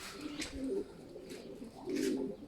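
Crested tumbler pigeons coo inside a coop, giving soft, low, throaty coos that come and go in a few short phrases, close by and fairly quiet.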